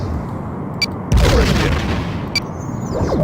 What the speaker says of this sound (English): Our phaser fire missed.